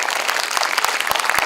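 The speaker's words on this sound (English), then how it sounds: "please give ma'am a huge round of applause" A conference audience gives a brief, brisk round of applause, many hands clapping densely and fairly close, with a few sharper individual claps standing out.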